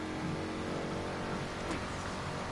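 A race car engine in Need for Speed Unbound drones and revs steadily as it accelerates, with a sustained motor tone holding throughout and no talking.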